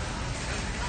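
Brief burst of hail falling on an outdoor Texas car show, a close, uniform hiss of hard drops hitting surfaces, steady throughout.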